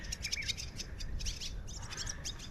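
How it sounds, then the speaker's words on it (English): Birds chirping at a campsite in Cervantes, faint scattered tweets over a low outdoor rumble. "Look at all the birds."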